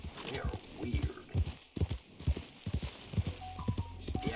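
Horse hooves clip-clop in a steady, rhythmic stride in the Red Dead Redemption 2 video game, close and distinct, with a voice speaking softly beneath the hoofbeats.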